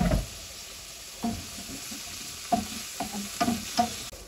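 Tomato goes into a hot pan for paneer curry, hissing and sizzling steadily while a spoon scrapes and stirs in several distinct strokes, close and clear with no talking.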